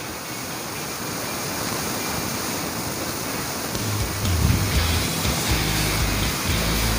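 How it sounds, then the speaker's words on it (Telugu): Water poured into a frying tomato egg curry in a pan makes a steady rushing hiss that thickens midway into a louder bubbling sizzle, continuous and close. "ఇప్పుడు ఇందులోనే కొద్దిగా వాటర్ వేసేసుకుందామండి"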